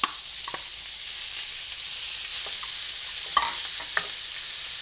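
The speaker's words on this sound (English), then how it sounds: "I'm going to put in my sausage." Sausage fries in extra virgin olive oil with a steady soft hiss, broken by a few sharp ticks and spatters close by.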